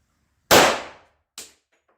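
A custom Colt 1911 pistol fires at targets outdoors at dusk: one sharp, loud report with a decaying tail, followed by a fainter second crack a moment later.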